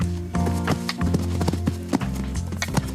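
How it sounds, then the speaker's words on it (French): Hooves of a three-year-old Cantal-bred foal clip-clopping over ground during its first jumping session among a few obstacles, steady close hoofbeats with a brief whinny-like note and no talk. "C'est à l'âge de 3 ans que le poulain entame sa première séance de saut."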